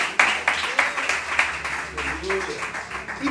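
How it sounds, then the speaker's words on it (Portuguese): A church congregation claps in a steady rhythm, a run of sharp hand claps close by, with voices speaking over part of it. "Aplauda ao Senhor com o seu melhor."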